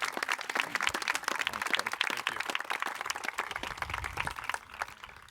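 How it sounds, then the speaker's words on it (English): An audience claps for Home Depot associates at a Navy SEAL home dedication ceremony, with individual claps standing out over steady applause that tapers off. "Guys, you got to clap for them, please."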